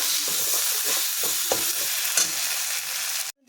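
Egg curry masala with salt being sautéed in a pan, a dense continuous sizzle with intermittent stirring scrapes, cutting off abruptly near the end.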